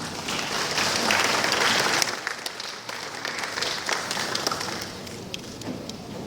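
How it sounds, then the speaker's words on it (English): An audience at the Lagos State Climate Change Summit breaks into full applause, with loud, sustained clapping that swells early and then continues steadily at a slightly lower level. "Please a round of applause for him."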